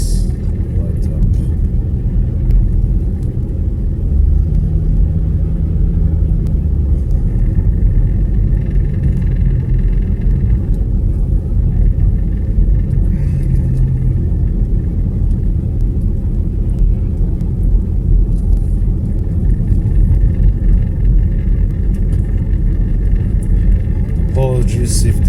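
Steady low engine drone and road rumble from a car driving through Myślenice at night, continuous and fairly loud throughout, with faint voice and occasional background sounds over the hum.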